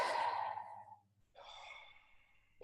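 A single slow exhale blown out through the mouth, soft and close, fading after a second, followed by a quieter breathy hiss.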